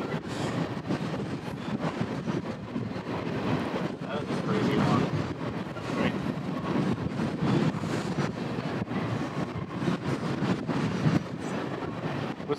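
A freight train carrying high shipping containers rumbles past at close range, a loud continuous roar with rattling wagons and wind buffeting the microphone, while people talk over it.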